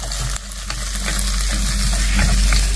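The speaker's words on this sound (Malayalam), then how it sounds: "നമുക്ക് നന്നായിട്ടൊന്ന് വഴറ്റിയെടുക്കാം." Ingredients for a plantain curry sizzle and crackle in a hot pan while being stirred, close and steady, with scraping clicks and no speech.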